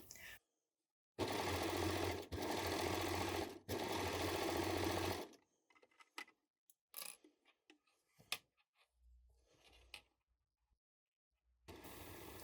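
Sewing machine stitching a sweater seam, a steady mechanical whir in three close bursts separated by brief pauses, followed by quiet handling clicks and a short restart at the end.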